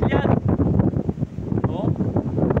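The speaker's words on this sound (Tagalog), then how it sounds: "Lakas ng hangin." Strong wind buffets the microphone at a resort, roaring and gusting unevenly throughout, with voices talking underneath.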